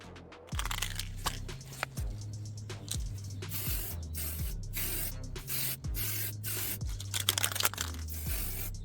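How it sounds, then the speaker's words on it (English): All-surface spray primer hisses from an aerosol can onto a 3D-printed Captain America helmet in repeated short bursts, with can rattles and handling clicks between the sprays. "I'm going to use this all surface primer for the first set of"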